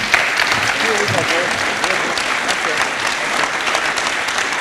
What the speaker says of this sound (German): Nochmal ein Beifall für die beiden.